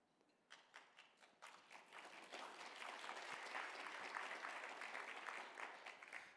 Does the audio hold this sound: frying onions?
no